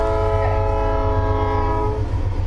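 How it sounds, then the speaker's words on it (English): Background train from the video game Undertale, a steady, tonal horn-like drone with a rumbling rail undertone, held evenly and fairly loud through the whole stretch. "I hear a train in the background over there."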